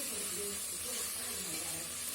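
Masala with soy sauce sautéing in a pan for vegetable spaghetti, a steady close hiss and sizzle running unbroken with no talk over it.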